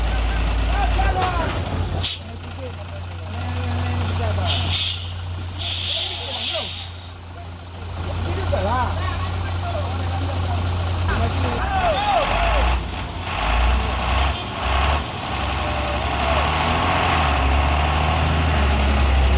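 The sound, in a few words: truck engine revving climbing Kedabuhan incline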